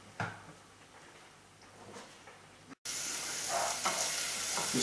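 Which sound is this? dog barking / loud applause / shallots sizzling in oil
shallots sizzling in oil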